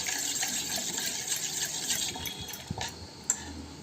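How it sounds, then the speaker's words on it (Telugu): A spoon stirs half a glass of water: soft swishing liquid, quiet and close, with a few light clinks near the end. "స్పూన్తో బాగా మిక్స్ చేయండి"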